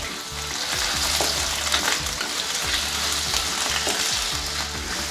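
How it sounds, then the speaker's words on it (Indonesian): Potatoes frying in hot oil over medium heat, a steady close sizzle and crackle with occasional stirring scrapes, constant and alone without talk. "Setelah minyak panas, kemudian goreng kentang."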